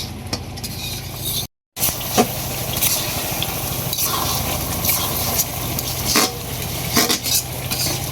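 Meat being stir-fried and browned in a pan at home, steady frying sizzle with repeated scraping and stirring strokes of a utensil against the pan, plus occasional metallic knocks, close and continuous, with one brief dropout partway through.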